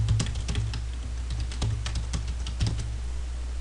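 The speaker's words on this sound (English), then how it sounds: "I'm just going to type something in." Steady typing on a computer keyboard, with irregular clusters of crisp key clicks and occasional heavier thumps at moderate closeness, no speech.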